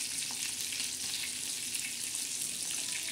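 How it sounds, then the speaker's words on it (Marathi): Fish shallow-frying until crisp in oil, a dense, even sizzle that holds steady and close throughout with no pauses or voices. "ह्या पद्धतीने आपली मच्छी अशी छान अशी खरपूस अशी तळत आहे"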